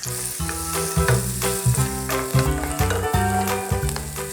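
Chopped shallots sizzle and crackle in hot melted butter, with a steady frying hiss and occasional stirring clatter, close and loud.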